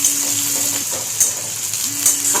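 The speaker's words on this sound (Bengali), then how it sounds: "পেঁয়াজটা ভাজা হয়ে গেছে।" Onions frying in a home kitchen pan, a steady close sizzle with faint stirring scrapes running alone throughout, no voices over it.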